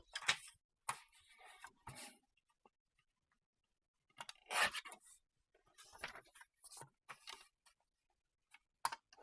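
Paper being cut with scissors for a folding pocket craft, heard as several short separate snips and rustles with quiet gaps between them, close and fairly soft.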